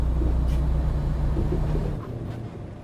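A car driving on a road at night, a steady low engine and road rumble running close and continuous, easing slightly quieter toward the end with no talk over it.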